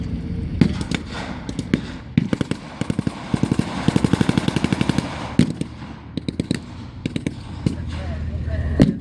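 Blank gunfire crackles through a WWII battle reenactment between British airborne troops and German motorcyclists, with loud rapid bursts of machine-gun rattle and scattered single shots mixed in. A commentator talks over the shooting.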